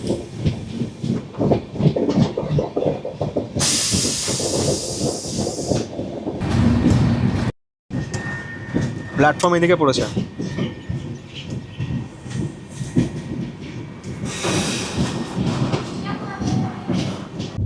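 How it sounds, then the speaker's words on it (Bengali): A passenger train rounds a curve on the approach to Chaparmukh Junction, its steady rumble and wheel clatter continuous throughout, with a brief high squeal and a short break midway as people talk over it. "চাপড়মুখ জংশন ঢোকার আগে ট্রেন কার্ভ নিচ্ছে এরকম।"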